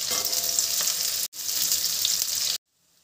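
Chopped onions and green chillies fry in a pan with a bright, continuous sizzle, close and steady, briefly cut off once before resuming and then stopping short.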